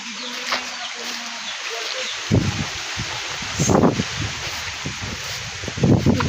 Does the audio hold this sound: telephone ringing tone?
no